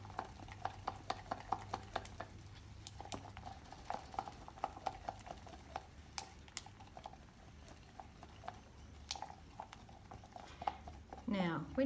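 Stick stirring resin and paint in a cup, a quick patter of light taps and scrapes that keeps going throughout, close and quiet under soft background noise.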